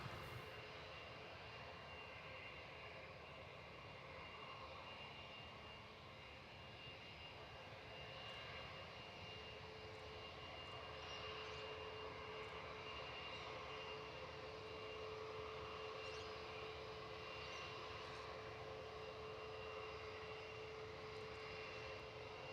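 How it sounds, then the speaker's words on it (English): A Virgin Australia Boeing 737 MAX jet departs for Sydney from Gold Coast Airport, its engines giving a steady, distant roar and whine that holds throughout without talk. "enjoy this Virgin Australia 737 MAX departure going off to Sydney"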